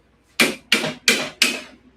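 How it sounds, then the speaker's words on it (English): Four sharp, evenly spaced taps of a bronze hammer driving down a Schwinn conversion bicycle seat post, close and ringing briefly after each strike. "we'll pop it down a little bit with the bronze hammer"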